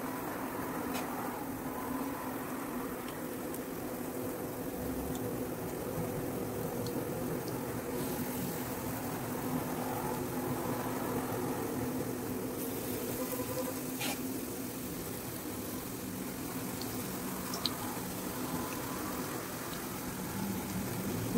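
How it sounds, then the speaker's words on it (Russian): Spoonfuls of grated zucchini fritter batter fry in hot sunflower oil in a frying pan, giving a steady, faint, even sizzle and hiss throughout with no speech. "И по столовой ложке кладем наши кабачки в разогретое масло."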